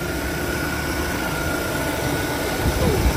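A BMW E36 318i engine idles steadily, heard up close from the engine bay as a constant, even hum with a faint high whine, growing slightly louder at the end.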